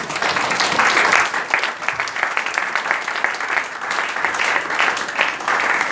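A church congregation applauds during a sermon, giving loud, sustained clapping that carries steadily from start to finish with no pause.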